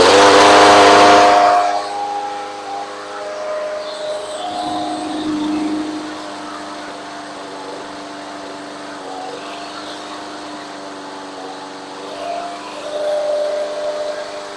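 A Briggs and Stratton 6.5hp engine on a Craftsman mower runs nearby at a steady drone, with a loud burst at startup settling into an even, humming idle with slight speed swells near the end.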